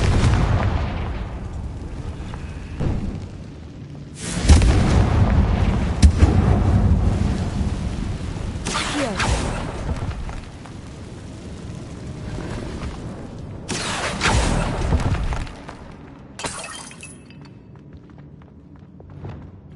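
Confringo blasting spell explosions in the video game Hogwarts Legacy, set in a decayed catacomb: several loud booming bursts with rumbling tails, spaced a few seconds apart, with quieter ambience between.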